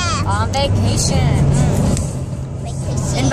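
Steady interior road rumble of a car on a long road trip to Texas, a constant low drone filling the cabin while people talk loudly over it throughout.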